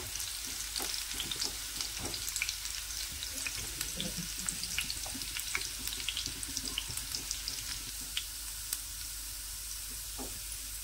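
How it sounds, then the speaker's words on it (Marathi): Onion with cardamom frying in a pan for a jackfruit curry, a continuous fine sizzle and crackle heard close up, with faint stirring and no voices. "कांदा आपल्याला हलकासा लालसर करून घ्यायचा, अगदी हलकासा म्हणजे गुलाबी रंगाचा करून घ्यायचा"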